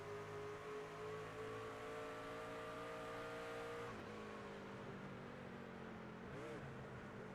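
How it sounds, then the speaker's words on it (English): A race truck engine in the iRacing sim at New Hampshire Motor Speedway drones steadily at high revs, then drops in pitch as it downshifts, with a short rev blip afterward. "You hear the downshift right there."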